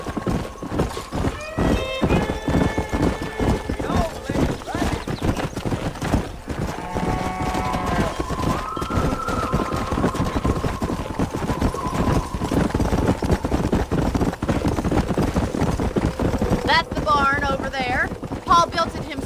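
Horse hooves clip-clop at a gallop in the Red Dead Redemption video game, a steady rhythmic beat with an occasional whinny, heard under intermittent character dialogue and game music.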